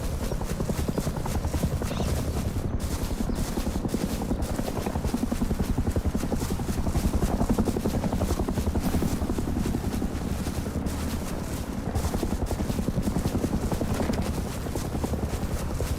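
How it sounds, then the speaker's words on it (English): A helicopter in the survival video game Rust thuds on without pause, its rotor beating in a fast, even rhythm for the whole stretch at moderate loudness. "they're duking it out with a chopper right now"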